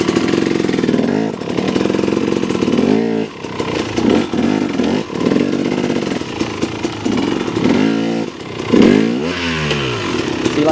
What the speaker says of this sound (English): the RPMs came up a little bit because I grabbed a little bit too much throttle